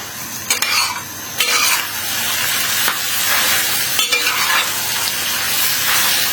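Spices with chili bean paste, scallion, ginger, garlic and chili stir-fry over high heat in a pan, a loud continuous sizzle with sharp scraping strokes of a spatula.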